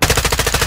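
Automatic gunfire from an M4 rifle in a video game, a rapid loud burst of about eight close, evenly spaced shots.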